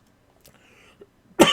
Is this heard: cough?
yes